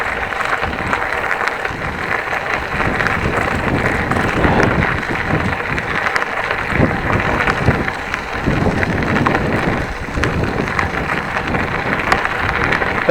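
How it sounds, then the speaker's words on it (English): Headwind buffeting a microphone during an outdoor city walk, a continuous rough rumbling roar with gusty swells throughout, no talk. "I feel I'm taking a bit of a headwind."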